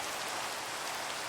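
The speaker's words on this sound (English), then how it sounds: "I wish the rain would stop." Rain falling in the Minecraft video game, a steady, dense hiss of rainfall without pause or break.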